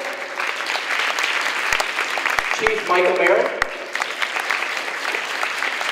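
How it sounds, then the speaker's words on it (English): A crowd at a DARE graduation ceremony applauds as guests are introduced, a dense, steady round of clapping while an announcer's voice carries over it. "Big round of applause, guys."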